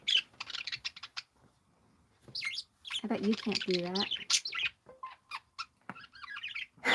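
Birds chirp and squawk in short bursts at a residential home, with one harsher rasping call in the middle, close and fairly loud, and a person talking between the calls.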